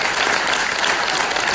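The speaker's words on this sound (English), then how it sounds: "can we applaud the people who are back for getting more" Congregation at a chapel service clapping for people returning for more treatment, a dense, even round of applause that holds steady throughout.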